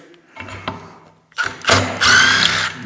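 Power driver with a T40 Torx bit working a fastener during a clutch kit install on a 2016-2019 Can-Am Defender HD10, a few short taps and then a loud whirring burst that runs to the end.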